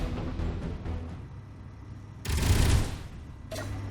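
The 30 mm cannon of an A-10 Warthog built in Space Engineers fires a loud, dense burst lasting about half a second, following engine rumble, with a brief second burst at the end.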